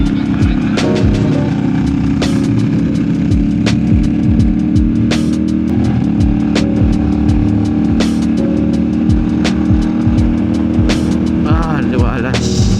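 Rebel CLC450 cruiser motorcycle riding along an open road in Tagaytay, its loud, steady engine drone heard close up with wind rush and a few sharp transients as traffic flies by.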